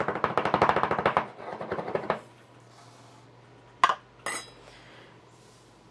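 A glass mason jar of dry homemade cake mix, fresh-milled flour with baking soda and salt, is shaken and tapped in a quick clattering burst, followed by quiet and two sharp knocks of the jar on a counter.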